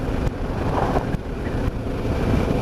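Steady broadband wind rush while riding a motorbike, a constant buffeting roar that fills the whole stretch with slight surges and no voices.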